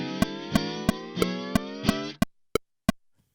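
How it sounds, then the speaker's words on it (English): Clean electric guitar played straight into an amp's clean channel: a sustained chord strummed in a steady rhythm, then a few single plucked notes ringing out alone and fading to silence, no talk. "I played it straight from the guitar into the amp and it sounds like this"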